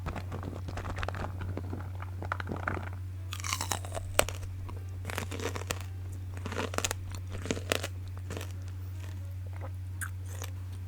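Close, crisp crunching and biting in bursts, someone chewing something seedy and brittle, with a steady low hum beneath and no talking.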